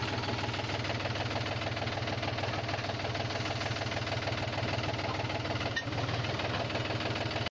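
A tractor engine on a farm during a turmeric harvest runs at a steady, close idle with a rapid, even knocking chug. A brief bump comes near the end before it cuts off.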